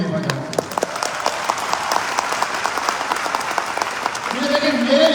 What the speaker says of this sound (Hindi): लेकिन मेरे लिए ताली बजा रहे,